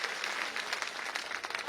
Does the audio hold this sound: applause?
yes